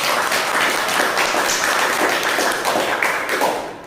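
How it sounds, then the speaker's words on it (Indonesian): A classroom audience claps for a group's presentation, a dense, close burst of many hands that holds steady for a few seconds and then fades out. "sekali lagi tepuk tangan untuk kelompok 3"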